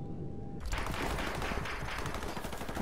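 Sustained minigun fire in Call of Duty: Modern Warfare Remastered, a loud, continuous rapid rattle that bursts in after a brief quiet moment and runs unbroken to the end, with no talking.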